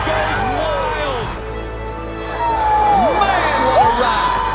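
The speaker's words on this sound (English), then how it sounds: "And the crowd goes wild!" A crowd cheering wildly, a dense roar of shouts and whoops with rising and falling voices, loud and sustained, swelling further toward the end.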